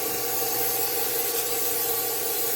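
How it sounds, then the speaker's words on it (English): Nonstick cooking spray hisses into a 12-cup muffin tin in a kitchen, one continuous close, loud spray lasting a couple of seconds, heard alone. "I'm going to spray a 12-cup muffin tin with nonstick spray of your choice"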